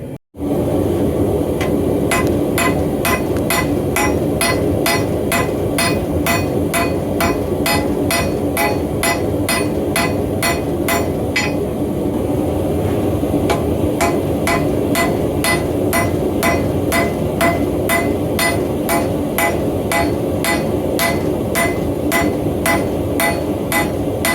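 Steady, rhythmic hammer blows on a railroad spike knife being forge-welded in a white-hot forge, loud and close, dozens of regular metallic strikes over a continuous forge roar with no talking.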